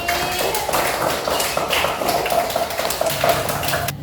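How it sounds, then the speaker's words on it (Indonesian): A classroom audience claps for student groups during a teaching practice session, giving a busy patter of many hands striking together that is fairly close and continuous. "Tepuk tangan untuk kelompok semuanya pada hari ini."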